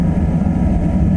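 Steady low rumble of a car engine while driving, a constant close drone with no break across the short moment and no voices.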